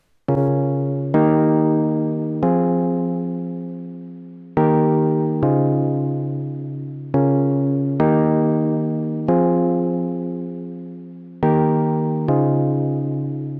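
A chord progression generated by Unison Chord Genie plays as sustained, evenly spaced chords with decaying tails, each struck cleanly and held for a bar or two, loud and close with no voices.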